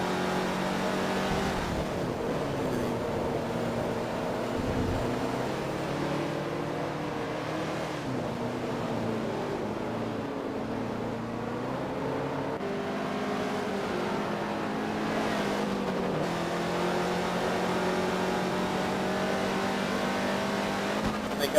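GT2 cup race cars at Sebring accelerate on track, engines droning and shifting pitch continuously as cars pass, with faint commentary voices underneath.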